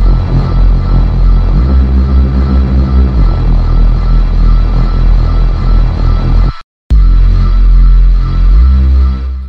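Reese bass synth made in Serum, heard within a full mix: heavy buzzing low notes changing pitch under brighter layered synth tones, loud and sustained, with a short silent gap before the bass returns.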